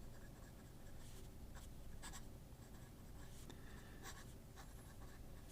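A fountain pen with a 14 karat fine nib writing on paper: soft, close scratching strokes in short bursts, very quiet against a faint background hiss.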